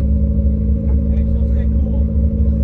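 A Honda Civic hatch with a D15 engine and a cheap turbo runs at a steady idle, a loud close rumbling hum with a faint whine above it, while people talk nearby.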